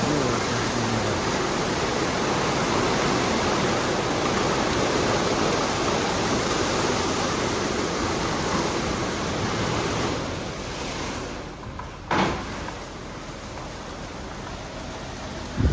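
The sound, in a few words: WashTec automatic car wash spraying high-pressure water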